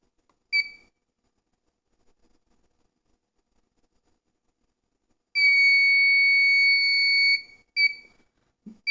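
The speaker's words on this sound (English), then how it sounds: "press and hold this button until you hear a long beep" Electronic buzzer on a Shelf Control device giving a short chirp, then a sustained long beep of about two seconds, followed by another brief beep, clear and alone in silence.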